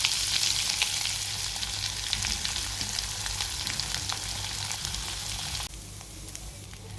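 Cumin seeds and garlic-ginger paste sizzle in hot oil with mustard seeds for a spicy guar bean curry, a steady crackling fry with sharp pops and spatters, briefly dropping quieter near the end.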